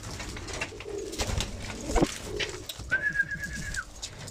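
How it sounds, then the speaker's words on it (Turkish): Soft pigeon cooing close by, low murmuring calls in short bursts, with a brief higher whistle-like tone toward the end. "Hepsi kaliteli kuş arkadaşlar."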